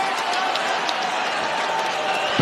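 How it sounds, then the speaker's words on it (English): UFC arena crowd responding to a takedown by Gustafsson against Smith, a broad distant roar of cheering and murmur filling the space, steady and moderately loud throughout. "The crowd responds"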